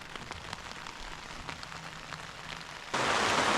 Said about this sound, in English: At 8:07, the rain started.